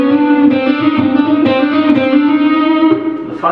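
Electric guitar legato exercise using the first, third and fourth fingers, a fast continuous run of smoothly connected distorted notes with a steady rhythmic pulse, played alone at close range.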